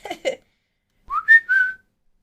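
A person whistles in imitation of a mockingbird, sounding a short rising note followed by two longer sustained tones after a pair of brief vocal sounds, close and clear in a quiet room.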